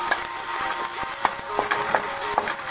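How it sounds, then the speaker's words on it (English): Steady hiss of vegetables sizzling in a hot pan, with scattered utensil scrapes and stirring clicks on top, no voices. "we are going to throw in the vegetables. Ah, the sizzle, the sizzle, gotta love it."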